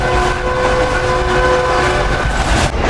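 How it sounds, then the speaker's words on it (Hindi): A train runs past on the Karachi to Lahore line in Pakistan, a steady loud rolling rumble that fills the whole stretch, with sustained tonal hums over it and no talking. "ये मेरी भी ट्रेन आ गई है जी"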